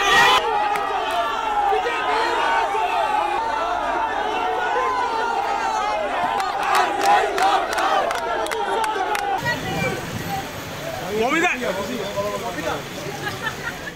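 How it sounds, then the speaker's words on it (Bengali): Trinamool and BJP supporters chanting slogans and counter-slogans outside the DM office in Alipore, a loud crowd of overlapping shouting voices that stays dense throughout, with some chatter toward the end. "আর তাকে দেখে স্লোগান তুলতে থাকেন তৃণমূলের কর্মী সমর্থকরা"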